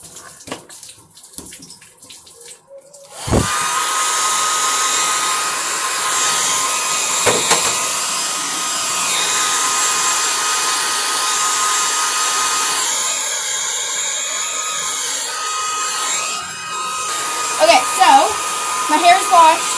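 A hair dryer whirs steadily and loudly after a quiet start, its constant airflow drone continuing for most of the clip with slight shifts in pitch.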